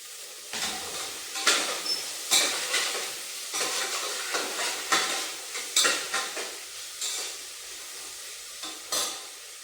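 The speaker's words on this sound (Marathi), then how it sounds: "कांदा चांगला लाल होऊन देते आणि मग टोमॅटो टाकते" Onions and tomatoes fry in a pan while a utensil stirs and scrapes, giving a steady sizzle broken by repeated louder scraping strokes, close and without talk.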